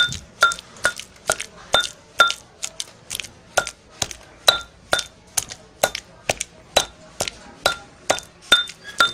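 Herbal pill ingredients for a pain remedy being pounded into fine powder, heard as close, evenly paced sharp strikes with a slight clink, about twenty blows in nine seconds, with no talking.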